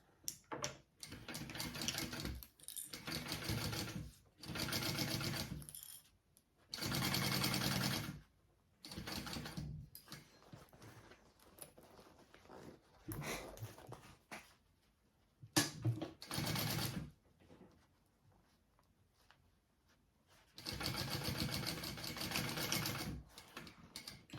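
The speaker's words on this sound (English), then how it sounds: "now you're going to sew that onto the exterior and your zipper" A sewing machine stitches a zipper onto the outer fabric of a phone sling bag in repeated loud mechanical bursts of a few seconds each, separated by short quiet pauses as the fabric is repositioned.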